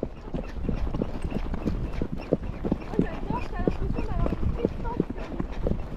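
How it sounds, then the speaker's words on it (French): Rhythmic clip-clop of a tall horse's hooves walking at a steady pace, close and distinct, with people talking over the hoofbeats throughout. "c'est ce genre de grands chevaux, c'est super confortable"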